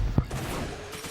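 A gunshot strikes the player in PUBG Mobile during the 4.0 Ghost Night update, a single sharp crack near the start that rings into a low, steady rumble of game ambience.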